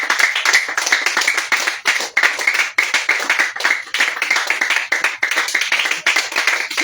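A church congregation at a prayer service claps in praise, loud, fast, steady handclaps from many people filling the room, continuous with no talking.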